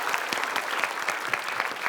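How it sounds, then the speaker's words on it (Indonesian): A short burst of studio audience applause on an Indonesian television quiz show, loud and close, with dense clapping and a few sharper claps standing out, no talk on top. "kita kasih tepuk tangan, kita kasih semangat."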